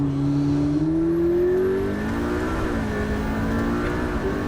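A turbocharged hybrid sports car with an electric motor pulls hard under acceleration, its engine note climbing steadily in pitch with a smooth, continuous whine, heard loud and close from inside the cabin with no talking.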